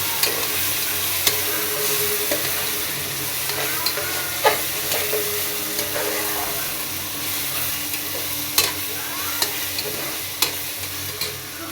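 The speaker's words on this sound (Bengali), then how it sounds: "এবার আদা দিয়ে দিলাম, একটু রান্না হোক।" Ginger and raisins frying in oil in a pan for chicken korma, a steady close sizzle with occasional stirring scrapes and clinks of a utensil against the pan.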